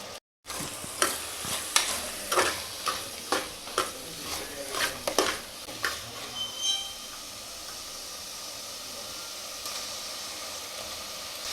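A tomato tempering fries in a pan with sharp, rhythmic stirring scrapes for several seconds, then settles into a low, steady sizzle.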